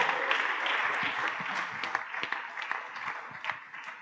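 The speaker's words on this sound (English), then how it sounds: "I am a big fan of how much clapping has already happened this evening." Audience at a museum music event applauding, dense clapping from many people with a few sharper individual claps, fading gradually over four seconds.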